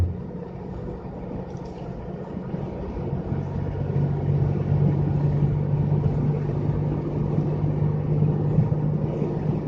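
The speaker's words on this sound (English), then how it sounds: "Probably just a county truck." A county truck passing at normal speed, a steady low engine rumble that swells slightly as it goes by, fairly close and continuous with no voices.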